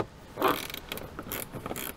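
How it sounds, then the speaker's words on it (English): A 10 mm socket wrench ratcheting out bolts holding a tweeter assembly in a Toyota 4Runner dash, a close series of short clicking and grinding bursts with brief gaps, no talking. "So we'll go ahead and remove those with our 10 millimeter."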